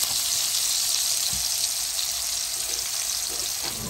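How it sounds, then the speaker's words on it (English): Onions frying with salt in a pan give a steady, close sizzle with a soft hiss throughout, with a couple of faint stirring bumps under it. "Bit of salt to help brown these onions."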